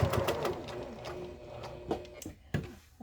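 A sewing machine stitches along the edge of a pleated fabric face mask in short quiet bursts, with faint mechanical ticks and clicks and pauses between runs.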